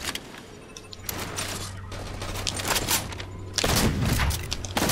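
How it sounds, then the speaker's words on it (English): Gunfire from an online shooter match on a map from the Majestic Map Pack: dense, loud volleys and booms that keep going throughout, intensifying near the end, with no talk over them. "I shot him!"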